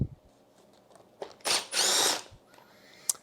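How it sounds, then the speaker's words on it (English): A Milwaukee M18 Fuel Surge impact driver backing out Torx T30 screws from a brush cutter blade guard, with two short whirring bursts close by and small clicks between. "We're going to remove 4 of these Torx T30 screws that hold the blade guard in place."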